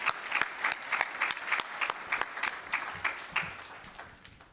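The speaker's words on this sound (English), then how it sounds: "let's end by giving yourselves a round of applause" An audience at a climate event in a museum applauds, giving itself a round of applause. Scattered, uneven claps from a modest crowd rise and fall, sound fairly close, and taper off toward the end.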